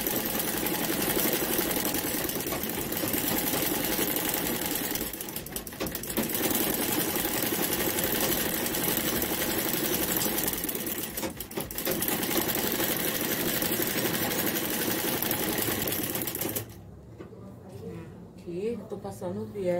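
A home sewing machine stitches bias binding onto a plastic bag, giving a steady mechanical whirr with brief pauses before cutting off near the end, followed by quieter handling sounds.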